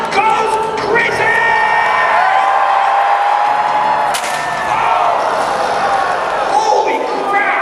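Spectators at a live jousting show by mounted knights at the PNE fair roar and cheer loudly and steadily, a dense crowd wash with occasional whoops, an announcer's voice carrying over it throughout.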